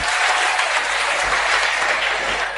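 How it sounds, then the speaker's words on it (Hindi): Students clap together in a classroom, a dense, loud and continuous burst of applause with no talk over it. "जोरदार तालियां जिस प्यारे बालक के लिए"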